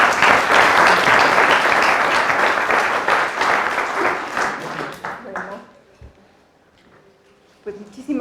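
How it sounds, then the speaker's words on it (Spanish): A lecture-hall audience applauds to welcome a speaker at a book presentation, loud dense clapping that gradually thins out and fades, followed by a quiet pause and a faint voice or rustle near the end. "Les pido un aplauso para recibirla."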